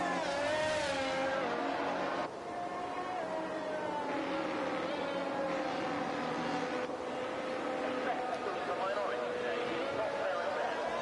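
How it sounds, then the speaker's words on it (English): Race car engines on the Imola circuit in a sim racing game, a steady layered whine of several revving motors with shifting pitches, held loud and continuous with a brief dip, under talk. "As you can see now, engines are getting warmed up again, the tyres are getting warmed up again"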